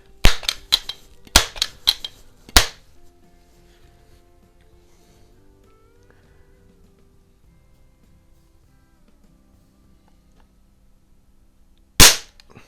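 Crosman model 147 self-cocking .177 pellet rifle fired outdoors while plinking: a quick cluster of five sharp, loud cracks in the first few seconds, a long quiet pause, then one more close shot near the end.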